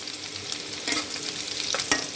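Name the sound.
chopped onion frying in hot oil in a kadai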